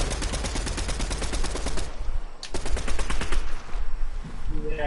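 Loud, close automatic gunfire in the battle royale game Fortnite hammers out in quick, evenly spaced bursts, pauses briefly, then resumes in another rapid stream before trailing off, with a voice faintly heard at the end.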